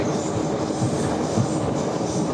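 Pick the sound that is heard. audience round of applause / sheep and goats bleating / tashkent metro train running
tashkent metro train running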